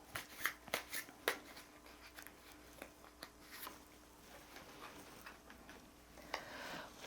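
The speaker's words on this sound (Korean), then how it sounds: "다시 주역 카드 한번 뽑아 보겠습니다" Shuffling I Ching divination cards in a tarot reading, a soft, close flutter of riffled cards with several sharp snapping bursts early on, then quieter rustling, with no talking.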